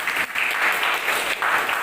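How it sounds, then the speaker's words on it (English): Classroom students clap steadily after a Class 12 biology presentation, a brief dense patter of applause with no talk over it. "Let's put a big round of applause."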